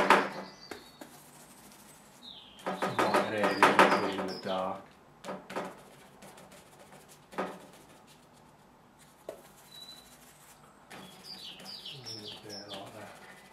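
Birds chirp and call in short bursts, with soft cooing woven in, alongside intermittent brushy scratching and clatter close by.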